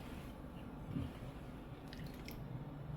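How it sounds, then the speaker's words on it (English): Thick graduation cake batter is folded together with whisked egg, giving faint, soft squishing and wet slapping sounds with a small burst of louder squelches. "I'm mixing everything to be well combined."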